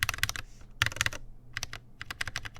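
Bursts of rapid keystrokes on a mechanical keyboard fitted with Holy Panda switches, clacking close and fairly deep in uneven runs separated by short pauses, with no talk over them.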